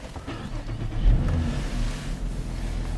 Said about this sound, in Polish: Pozwolę sobie uruchomić pojazd.